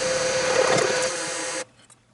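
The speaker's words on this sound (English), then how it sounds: "now I'm going to countersink for the screws" A Weldon countersink bores screw holes in a band saw fixture plate, giving a close, steady high whir with some grinding that drops slightly midway and then stops abruptly, leaving faint clicks.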